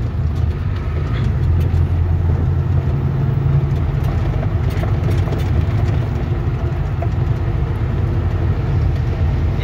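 A vehicle engine labors under heavy load while climbing the Kasara ghat mountain road, a steady, loud, low droning rumble with road noise that continues without a break and no talking.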